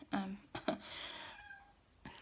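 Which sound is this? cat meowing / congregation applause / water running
cat meowing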